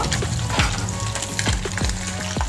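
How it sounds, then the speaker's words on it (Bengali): Small fish frying in hot oil for a Bengali fish curry, giving a loud, close, continuous sizzle with a few sharp pops and the scrape of a spatula stirring. "বাকি মাছগুলো আমি ভেজে নেবো"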